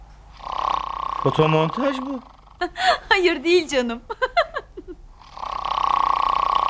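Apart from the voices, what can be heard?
person snoring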